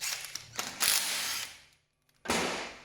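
A ratchet clicks rapidly in bursts while 10 mm bolts are backed out of the water pump on a Honda K20/K24 engine, close and loud with a short pause between runs.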